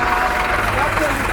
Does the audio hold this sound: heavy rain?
no